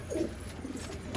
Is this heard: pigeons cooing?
yes